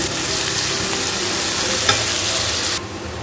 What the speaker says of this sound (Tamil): வெங்காயம் நல்லா வதங்கி பொன்னிறம் ஆகட்டும்.